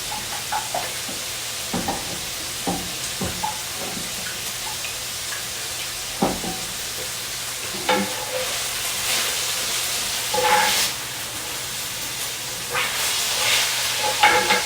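Sausage frying in a pan: a soft, steady sizzle and hiss with scattered clicks and scrapes of a utensil, fairly faint and with no voices.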